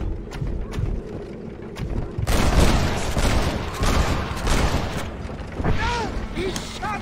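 Gunfire erupts in a Red Dead Redemption shootout during a horseback ride, a dense burst of loud shots from about two seconds on amid clattering hooves, with a voice crying out near the end.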